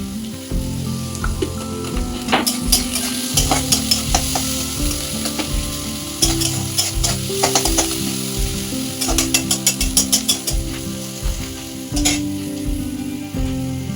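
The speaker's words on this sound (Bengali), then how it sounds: "পেঁয়াজগুলো ভাজা করতে থাকি, আমাকে নুন দিই।" Onions frying and stirred in a pan with salt for a crispy vegetable chop filling: steady sizzle with repeated scraping, clattering stirs throughout, close and fairly loud, no talking.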